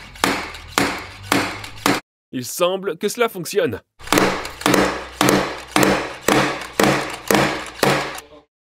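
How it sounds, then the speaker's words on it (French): Slide hammers from a paintless dent repair kit knock on the body of an abandoned Lamborghini Murcielago under restoration, a steady series of sharp, close metallic thuds, paused briefly while a voice speaks. "Nous avons fini par utiliser des marteaux à coulisses provenant d'un kit PDR."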